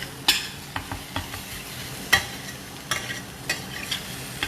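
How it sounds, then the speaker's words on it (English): Onions fry in a pan, a soft, steady sizzle broken by several sharp stirring scrapes and utensil clicks close by. "my onions are nice and fried"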